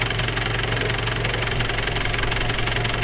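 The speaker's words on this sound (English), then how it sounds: "So we'll let it keep idling" A turbocharged Datsun wagon engine idles steadily nearby, running without a thermostat, a low, even rumble with a faint rhythmic knock running underneath and no voices.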